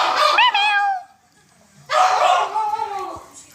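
A small dog gives two yelping, whining barks with wavering pitch, close and loud, separated by a quiet pause, indoors in a home.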